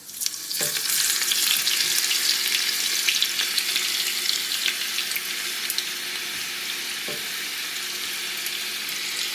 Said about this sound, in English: We're gonna add our whole geera to the hot oil and our garlic.